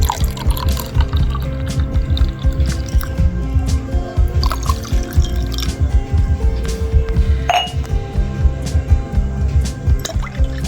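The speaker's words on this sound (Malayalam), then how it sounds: "ഇതിനകത്തോട്ട് കുറച്ച് വെള്ളവും കൂടി ഒഴിക്കുവാണേ" Water poured into a glass of passion fruit squash with ice cubes, with clinks and drips, close up, over a low background hum.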